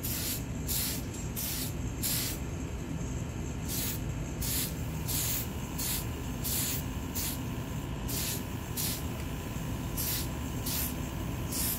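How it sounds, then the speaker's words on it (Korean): A can of surfacer spray primer is sprayed onto a 1/14 scale New Ray Ford F150 model truck in repeated short hissing bursts, close and fairly loud, with brief pauses between passes and no talk. "진짜 캔 스프레이 있으면 이게 진짜 편해요."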